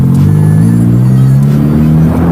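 A Honda Click scooter engine with a titanium JVT CVT set revs loudly and steadily up close, its low droning pitch rising and holding throughout.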